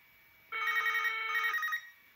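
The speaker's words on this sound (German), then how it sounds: "Und wir haben tatsächlich einen Anruf und können den sogar aufnehmen." An old Siemens C-Netz mobile phone rings with an incoming call, one steady electronic ring burst lasting about a second, heard alone and fairly faint in a quiet room.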